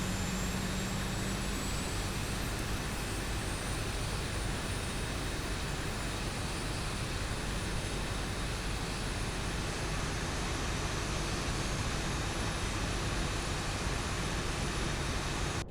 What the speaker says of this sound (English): I love the way these engines sound too, man.